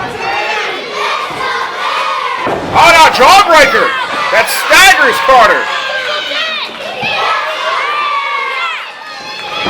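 Wrestling crowd at a Warriors of Wrestling event cheering and shouting loudly, swelling in bursts over a ringside commentator's continuous play-by-play.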